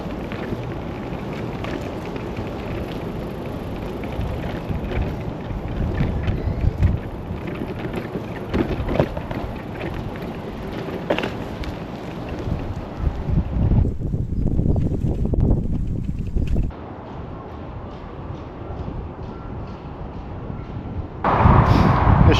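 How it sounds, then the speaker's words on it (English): Heavy wind buffeting a microphone during a bike ride near Kilmarnock's Somerset Park, a loud continuous roar with gusty surges and brief dips, dominating throughout. "Not sure if you can hear me over the wind"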